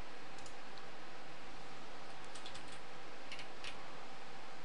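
A computer mouse clicks a few times while a trimming tool is used in diagramming software, sparse light ticks sitting faintly over a constant background hiss.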